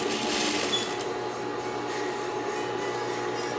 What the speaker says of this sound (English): I want to line them up together and sew them together